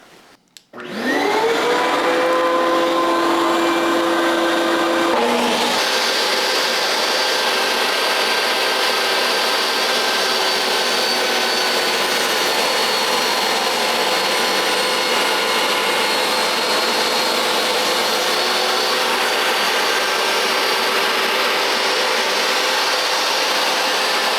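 A power saw runs up and cuts through wood using a DIY push stick with cleats hooked on the back of the board, a loud, steady whine that holds for about twenty seconds with no talking.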